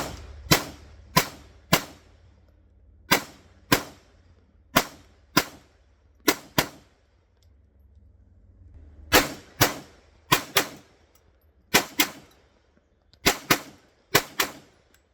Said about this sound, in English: there's no doubt I need to practice those double taps a little bit cleaner